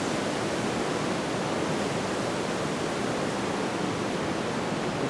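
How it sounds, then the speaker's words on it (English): Huge surf crashing on a Hawaiian island shore: a dense, steady roar of breaking waves fills the whole clip, loud and continuous with no voices. "We can hear a huge surf crashing on the shores of this Hawaiian island right now."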